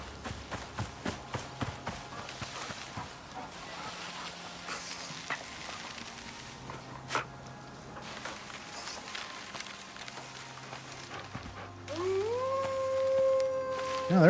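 Wolves howl in the distance in the Icarus survival video game, a faint drawn-out wavering cry rising over footsteps and quiet ambient game sound near the end.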